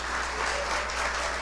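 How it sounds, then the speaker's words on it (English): An audience applauds military families at a celebration event. The clapping is dense, steady and even, with many hands at a moderate distance, and no voices come through. "And a round of applause."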